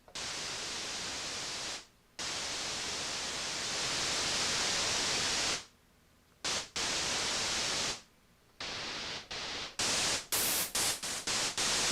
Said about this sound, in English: Our riser should probably be in a white noise.